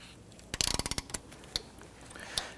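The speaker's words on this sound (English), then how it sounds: "Now you can use an impact driver, or you can use your ratchet like I'm doing" A ratchet fitted with a 12 mm socket and extension loosens the battery clamp bolt on a 2011-2014 Kia Sorento, giving a rapid, close burst of about a dozen sharp clicks, then a few isolated clicks, with no talking.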